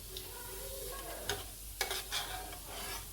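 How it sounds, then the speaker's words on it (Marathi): Cumin seeds sizzle in hot ghee in a kadhai while sabudana khichdi is being made: a steady close crackling hiss with a few sharper pops and stirring scrapes, and no talking. "तुपामध्ये आता जिरे टाकून"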